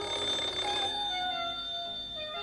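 A telephone rings with a bright, steady electronic tone, loud at first and then fading over about two seconds, with no talk over it.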